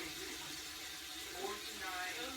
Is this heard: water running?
yes